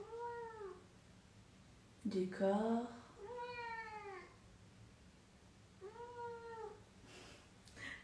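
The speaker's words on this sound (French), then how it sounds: "j'ai un chat qui participe à tous les lives" A cat meows several times in long, drawn-out, tonal calls, one louder and more strained, close by in a quiet room during a yin yoga class, while someone speaks softly.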